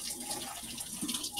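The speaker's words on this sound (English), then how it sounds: "I'm gonna rinse off my funnel real quick" Tap water runs and splashes briefly as a funnel is rinsed under a faucet at a sink, a soft, close, continuous wash with no talk.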